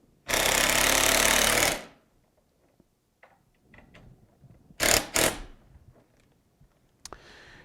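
A power driver fastens a gusset plate with 5/8 screws on an Andersen fiberglass window mull: one loud sustained burst of about a second and a half, then light clatter and two short sharp whirs.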